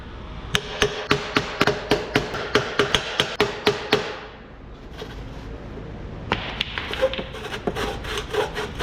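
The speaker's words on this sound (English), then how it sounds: "take a little hammer." Sharp, evenly spaced hammer taps ring out close by on an Audi A7 exhaust, a quick run of blows, a brief pause, then another burst of lighter tapping.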